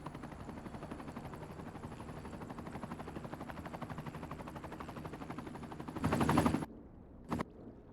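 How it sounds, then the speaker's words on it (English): Firefighting and police helicopters in the Cities Skylines 2 city-building game, a continuous rapid rotor chop at moderate level, swelling into a louder burst before cutting off, with a brief final thump. "I added some more firefighting and police helicopters"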